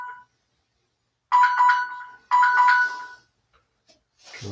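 A phone rings during a quiet yoga session, two bursts of bright electronic tones separated by silence, followed by a faint rustle.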